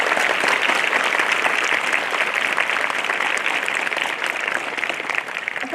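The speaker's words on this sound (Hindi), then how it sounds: "एक बार जोरदार तालियां इस बात के लिए।" Loud, dense applause from an audience at a school investiture ceremony fills the hall, a steady roar of many hands clapping at once that holds for several seconds before easing slightly at the end.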